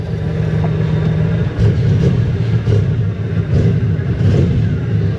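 A 1992 Cadillac with 184,000 miles, a service engine light on, a bad hesitation and exhaust trouble revs steadily nearby, a loud mid-pitched engine note that rises and swells several times over a constant rumble.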